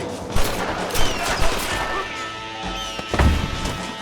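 Gunfire rings out in a Western shootout in Red Dead Redemption, several loud sharp shots spaced irregularly, mixed with impact cracks and ringing tones, with voices calling out briefly between them.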